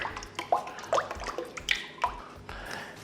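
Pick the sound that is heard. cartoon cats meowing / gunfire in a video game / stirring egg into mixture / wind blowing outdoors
stirring egg into mixture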